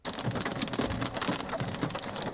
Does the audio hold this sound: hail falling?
yes